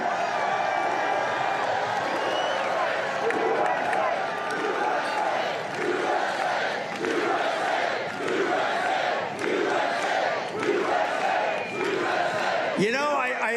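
A large outdoor campaign rally crowd in Freeland, Michigan, with the president, cheers and roars continuously in a dense wall of voices, with surging waves of whoops and shouts throughout.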